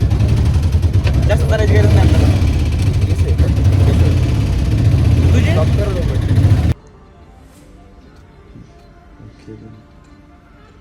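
A small three-wheeler engine idles with a steady low rumble under conversation, then cuts off abruptly, leaving quiet background noise.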